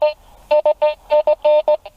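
A Makro CF77 metal detector sounds over aluminium, giving loud, close electronic beeps in a rapid, stuttering series of short bursts with brief gaps between them.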